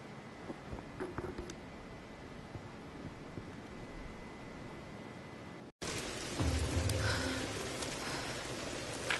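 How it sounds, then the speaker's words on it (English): A storm in the Tomb Raider (2013) video game, with rain hissing steadily and low thunder rumbling. The rain grows louder and closer after a brief cut. "We're getting closer to the storm."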